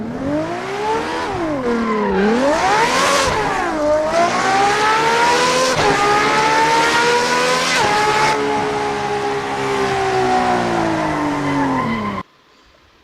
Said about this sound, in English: Now let's try to launch an F1 car.